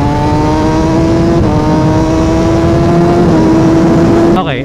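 A Kawasaki ZX6R sport motorcycle revs hard while ridden, its high-pitched engine note climbing steadily through the gear, briefly dipping at a shift, then cutting off sharply near the end under constant wind rush.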